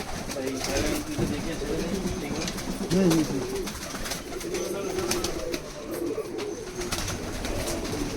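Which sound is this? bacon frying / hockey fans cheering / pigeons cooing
pigeons cooing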